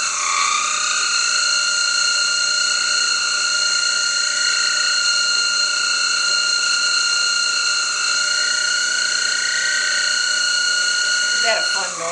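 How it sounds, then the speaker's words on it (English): An electric power drill bores a hole through a glass sheet, giving a steady high whine with a grinding edge that runs loud and unbroken for about twelve seconds before briefly cutting out near the end. "Turn off my drill."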